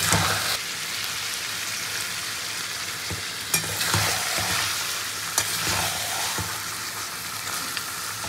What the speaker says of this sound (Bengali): মাংসটা কিন্তু গ্যাসের ফ্লেম বাড়িয়ে খুব ভালো করে কষিয়ে নিয়েছি